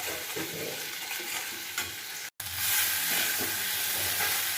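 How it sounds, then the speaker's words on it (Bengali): Spice masala fries and is stirred in hot oil for a prawn curry, a steady broadband sizzle close by with a brief dropout midway, then louder, fuller frying with soft stirring scrapes. "খুব ভালো করে মশলাটা কষিয়ে নিতে হবে, যাতে একদম কাঁচা গন্ধ না থাকে।"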